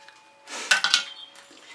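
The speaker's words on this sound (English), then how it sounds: "I need a little scrape just to get rid of what's on the blade of my spatula" A metal painting spatula is scraped to clear acrylic paint off its blade, giving a short scratchy rasp with a few thin metallic clinks, close and quiet, no talking.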